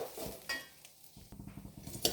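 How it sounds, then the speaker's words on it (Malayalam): A spatula scrapes and clinks against a pan while flattened rice and sesame seeds roast, giving quick rhythmic stirring scrapes with faint dry sizzling, close and fairly loud, with no voices. "ഇതും നന്നായി ഒന്ന് വറുത്തെടുക്കാം"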